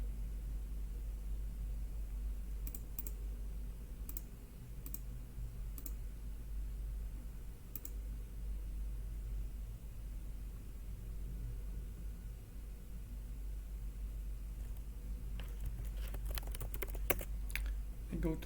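Keystrokes on a computer keyboard as an address is typed into a testnet wallet page: scattered sparse clicks early, then a denser burst of rapid typing near the end, over a steady low hum.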